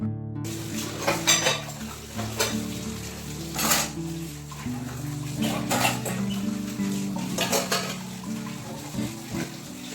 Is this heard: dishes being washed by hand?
yes